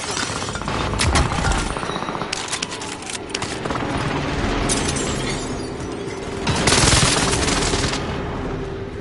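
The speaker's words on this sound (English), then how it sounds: "Enemy precision airstrike. Stay alert." Gunfire bursts and explosive blasts from a Call of Duty Warzone match, with dense automatic fire and a heavy airstrike-like barrage swelling near the end, loud and continuous throughout.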